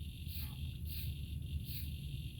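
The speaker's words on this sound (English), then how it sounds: "I got a cicada that keeps chirping" Steady shrill insect buzzing from bugs in a tree on a summer evening, pulsing high trills repeating about every second and a half over a dense low background hum, fairly loud and continuous with no talking.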